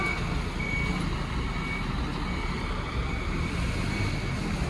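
Reversing beeps repeat steadily as a Rosalia Indah bus backs into its parking bay. A heavy diesel drone and surrounding traffic noise fill the background throughout.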